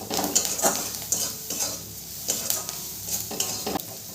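A spoon scrapes and clinks repeatedly against a pan or bowl while salt is stirred into a potato-filling mixture for aloo paratha, giving a rhythmic, close stirring sound with faint sizzle beneath.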